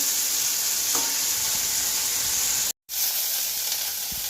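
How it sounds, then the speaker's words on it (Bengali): Turmeric-coated shrimp frying in a pan, a loud continuous close sizzle with faint stirring, broken by a brief gap of silence, then resuming steadily. "চিংড়ি মাছটা ভাজা হয়ে গেছে"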